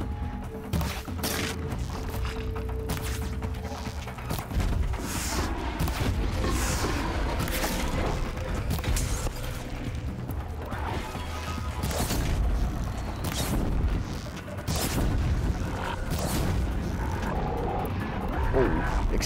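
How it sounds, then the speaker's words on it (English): Explosions and heavy crashes boom through a fight in the video game Horizon Zero Dawn, with repeated impacts and rumbling over continuous game action and a player talking throughout. "Explosions."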